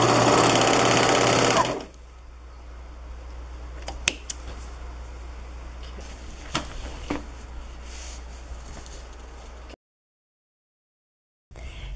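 A sewing machine backstitches about an inch over the starting seam of a hoodie without cutting the thread, a brief loud whirring burst followed by quiet handling clicks and then silence.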